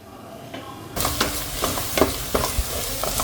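Coconut roasts and is stirred in a pan for an Onam sadya dish: a steady dry sizzle, with scraping spoon strokes breaking in at irregular intervals, close and fairly loud, no talking.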